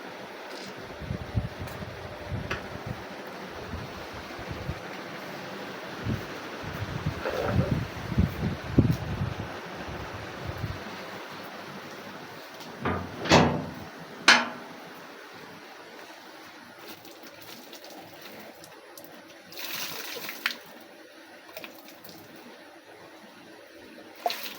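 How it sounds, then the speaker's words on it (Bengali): Running water splashes as hands are washed outdoors, with irregular bursts of splashing and pouring over a steady background of wind, close to the microphone and without talk. "এখন আমি হাত ধুয়ে নিব।"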